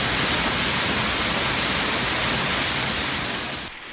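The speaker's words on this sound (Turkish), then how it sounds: "Antalya'yı dolu ve sağanak yağmur vurdu." Heavy downpour after hazelnut-sized hail in Antalya, a loud steady broadband roar of rain hammering surfaces, continuous and close, easing slightly in the last moment.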